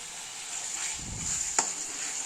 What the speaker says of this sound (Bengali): একবার ভালো করে আমি সবগুলো মিশিয়ে নিচ্ছি